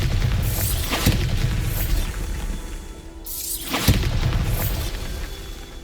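Two heavy explosion blasts from the Bombarda spell in the video game Hogwarts Legacy, each a sharp boom with a shattering crash, spaced about three seconds apart, with a rumbling tail between them.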